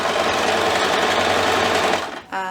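A sewing machine runs steadily at close range, stitching a half-inch seam along the raw edges of a pillowcase, a dense continuous whir that stops abruptly near the end.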